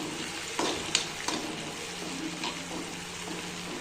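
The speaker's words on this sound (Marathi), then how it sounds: "चांगला कांदा पण परतून घेते।" Chopped onion frying on a hot griddle for sev bhaji, a steady close sizzle with a few sharp clicks and scrapes of stirring near the start.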